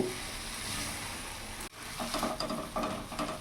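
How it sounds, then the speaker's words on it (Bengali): Spice paste sautéing in hot oil for a duck egg and small potato curry: a steady, close frying hiss, cut by a brief stir, then crackling pops and sputters as the sizzle picks back up. "মশলা থেকে যতক্ষণ না তেল ছেড়ে দিচ্ছে ততক্ষণ মশলাটা আমি ভালো করে কষিয়ে নেব"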